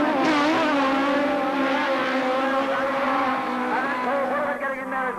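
Rallycross cars, including Saab and Lotus entries, roaring past together at Lydden Hill in 1985, a loud close engine howl with shifting pitch as the pack passes, and commentary faintly mixed underneath.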